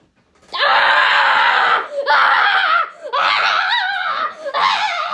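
A Just Stop Oil protester screams loudly in four long, shrill bursts with brief gaps, close and harsh, wavering and breaking toward the end, with no other talk.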